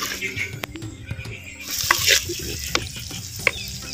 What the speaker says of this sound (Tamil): வெங்காயத்தை நல்லா வதக்கிக்குவோம்.